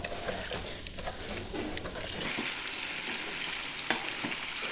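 Food frying in a pan with curd, being mixed: a continuous sizzle with scattered clinks of the spoon against the pan.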